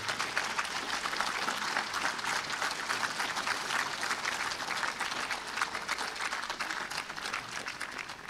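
An audience at a book launch applauds in a dense, sustained round of clapping that stays loud and even for the full stretch.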